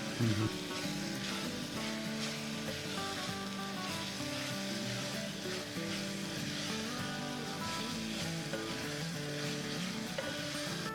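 Steady loud sizzling of oil and ingredients frying inside a pressure cooker for methi pulao, continuous and close with occasional stirring scrapes, no talk over it.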